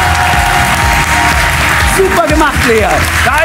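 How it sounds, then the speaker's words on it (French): Studio audience of a French children's club show applauding a young winner receiving a silver statue, loud steady clapping with a crowd murmur beneath and voices calling out toward the end. "Un tonnerre d'applaudissements pour toi."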